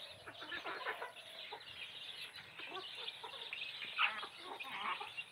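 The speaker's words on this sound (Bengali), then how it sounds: "এটার ভিতরে থাকে মুরগি" Desi chickens cluck and chatter inside a coop, several birds calling in overlapping bursts at moderate volume against a quiet background.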